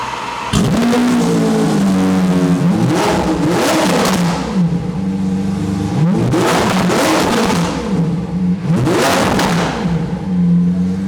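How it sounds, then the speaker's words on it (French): Several car engines in a showroom start up, settle into warm-up idles and then rev in repeated rising and falling bursts, loud and close with no talking. "Donc je démarre, je laisse un petit peu chauffer. Ensuite, je vous fais quelques accélérations"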